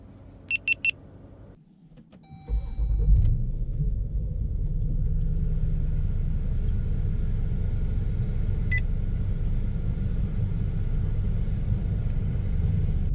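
A Jeep Grand Cherokee SRT starts up after three quick dashboard beeps, then settles into a steady, close low engine rumble heard from inside the cabin while driving in the city, with a couple of faint chimes and no talking.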